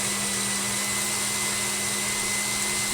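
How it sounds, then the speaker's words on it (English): An electric mixer whisks egg white in a bowl, giving a steady, even motor whine with a constant hum and no break for the whole stretch. "We're just going to drop another egg white right in there. And now that whisk is going to catch that,"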